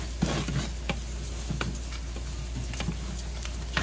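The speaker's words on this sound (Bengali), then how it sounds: "এরকম নেড়ে চেড়ে সটে দিয়ে ভেজে নেবেন আপনারা ইনস্ট্যান্ট পটে যখন রান্না করবেন।" Rice sautéed and stirred in an Instant Pot, with a continuous soft sizzle and repeated scraping clicks of the spoon against the pot, close and steady without speech.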